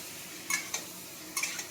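Boiled potatoes are stirred into hot oil in a pan, a faint sizzle under two pairs of sharp spoon scrapes and clinks against the metal.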